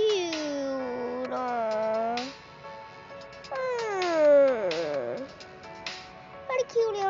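A cat in the Roblox game Adopt Me gives several drawn-out, pitch-sliding meows, loud and clear, with short pauses between them.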